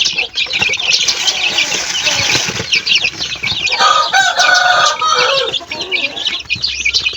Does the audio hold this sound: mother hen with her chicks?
yes